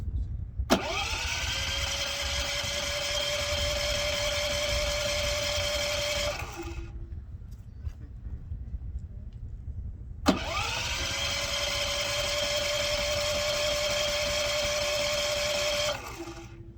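A portable generator, Westinghouse iGen 4500 or Champion 3400, is pulled or switched into life twice: each start catches instantly into a steady whining hum that runs about six seconds, then cuts off into near silence.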